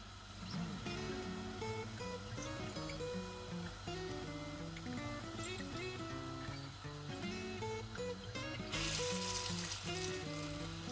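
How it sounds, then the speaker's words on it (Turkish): Steady sizzling of pastırma paçanga börek pastries frying in hot oil, a continuous crackling hiss under background music. "Şöyle kızdırmış olduğum yağın içerisine bırakıyorum."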